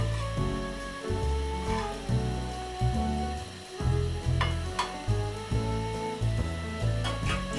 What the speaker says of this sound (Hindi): ग्रेवी को पकाएंगे।